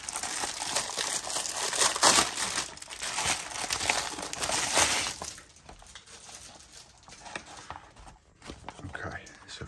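Cardboard and plastic packaging of a Hachette Partworks Titanic model issue is torn open up close, with busy crinkling and rustling that is louder for the first few seconds and then turns to quieter, sparser handling noises.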